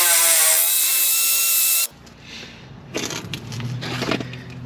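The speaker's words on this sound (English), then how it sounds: "We'll go ahead and just drill it out." A high, steady whine cuts off abruptly, followed by low rumbling and grinding bursts as a power drill bites into a metal bolt during a Honda Accord front brake job.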